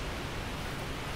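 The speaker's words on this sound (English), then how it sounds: "Water attack." Hydra water attack in Dark Souls: a steady, loud rushing wash of water noise, like a gushing torrent or spray, filling the whole moment with no break and no voices.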